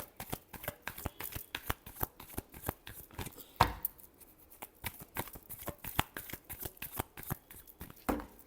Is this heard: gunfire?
no